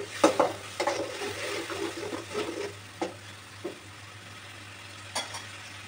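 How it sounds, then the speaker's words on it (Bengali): Spice paste for a Bengali sea fish curry being stirred and fried in oil after water is added, with soft sizzling and repeated spatula scrapes against the pan, fairly close and with no talk. "এবার মশলাটাকে ভালো করে কষিয়ে নেব, যত সময় আর কি মশলাটা তেল ছেড়ে না দেয়।"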